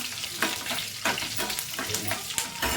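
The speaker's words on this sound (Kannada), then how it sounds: "ಒಣಮೆಣಸಿನ್ಕಾಯಿ ಕರ್ಬೇವಿನ ಸೊಪ್ಪು ತುಪ್ಪದಲ್ಲಿ ಫ್ರೈ ಮಾಡುವಾಗ ಒಳ್ಳೆ ಘಮ ಬರುತ್ತೆ" Dry red chillies and curry leaves sizzle and crackle in hot ghee, a steady close frying hiss punctuated by regular scraping stirs, with no voices.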